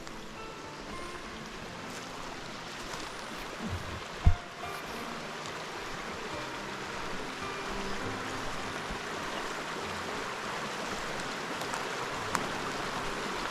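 Eight Mile Creek flows on a rainy day, giving a steady, broad rushing wash of water throughout, with one sharp knock partway through and no talking.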